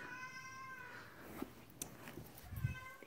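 A cat gives a drawn-out meow close by, then a few quieter, shorter mews, with faint household noise in the background.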